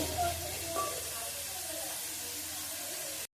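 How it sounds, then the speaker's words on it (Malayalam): Fried rice ingredients sauté in a hot pan with a steady, even sizzle and hiss that runs the whole time, broken by a faint scrape or two, then cuts off abruptly. A voice talks faintly. "നമുക്ക് നന്നായി വഴന്ന് വരട്ടെ"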